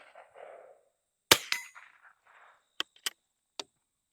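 Bolt of a Stevens Model 15-B .22LR single-shot bolt-action rifle worked, a sharp metallic clack followed by a few lighter clicks, close and crisp in an otherwise quiet space.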